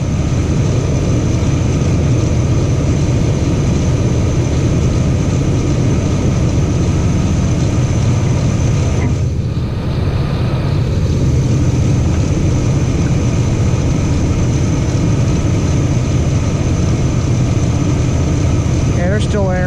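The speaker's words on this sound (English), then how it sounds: "give her a few revs." A car engine with air still in its cooling system, being revved during bleeding, gives a steady low rumble throughout, loud and continuous, with a brief dip partway through before it picks back up.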